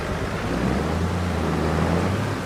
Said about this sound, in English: But it's raining right now, so I don't know if it's gonna get done today.